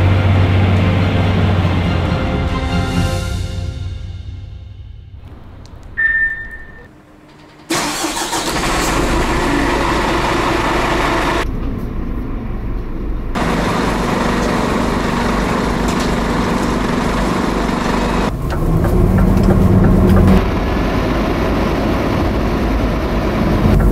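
A Scania P320 fire engine with a 320-horsepower inline five-cylinder diesel and a Volvo fire engine start up and pull out. Loud diesel rumbling and revving sounds up close, then drops away and returns, with no talk.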